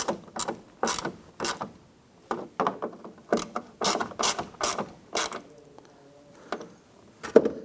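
Ratchet tightening door check strap bolts on a 1997-2006 Jeep Wrangler, close, loud clicking bursts in a steady back-and-forth rhythm, pausing briefly before a few final clicks.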